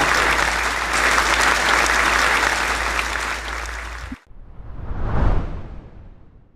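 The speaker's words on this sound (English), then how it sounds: "Everyone, please join me to give them a big round of applause." A festival audience applauds quiz winners at a Bhagavad Gita festival finale, dense steady clapping for about four seconds that cuts off abruptly, followed by a swelling whoosh-like sound effect.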